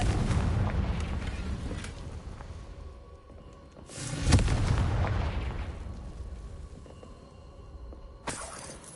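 Confringo fire-blast spell cast in the video game Hogwarts Legacy, heard as loud, rumbling explosive booms with crackling debris that swell, fade and burst again, dense and continuous throughout.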